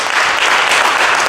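Church congregation applauding together to acclaim the Lord, a dense, steady burst of clapping filling the room briefly without break.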